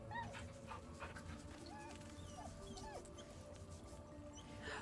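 A dog companion in Baldur's Gate 3 whimpers and yips in short, high squeaks over steady game ambience and music, near and moderately loud throughout.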